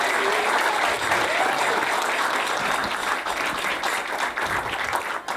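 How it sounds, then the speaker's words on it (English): Wedding guests give a sustained round of applause, dense steady clapping filling the room throughout with a faint murmur of the crowd underneath. "Let's have a round of applause for them."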